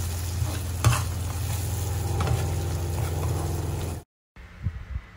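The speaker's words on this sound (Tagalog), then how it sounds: "ihahalo lang natin siya. And then, halu-haluin lang natin siya guys para mag-mix siya ng maayos" Thickening cream being stirred into a tomato basil pasta sauce in a pan, a steady close sizzle and bubbling with spoon scrapes, then a brief silence and a few soft stirring knocks.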